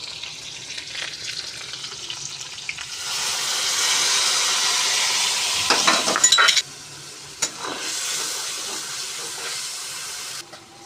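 Spice paste poured into hot oil in a pan with a little chopped onion, giving a bright, steady sizzle and hiss that swells partway through, with sharp bursts of crackle and stirring near the end.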